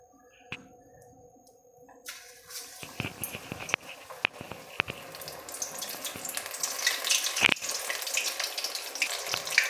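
Brinjal bajji, battered eggplant slices, dropped into hot oil over a medium flame, building from a quiet start into a steady, bubbling sizzle with a few sharp clicks and splashes as pieces go in.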